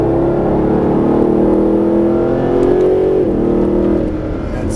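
A Mercedes SLS AMG engine pulls hard on the throttle out of a tight corner, a loud, close, rising growl with strong harmonics that climbs steadily and then eases slightly near the end.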